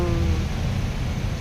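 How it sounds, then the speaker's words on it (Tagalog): Steady rain falls at dusk, a dense, even hiss with low rumble that holds at a constant level throughout, with no voices. "Parang ulan yata."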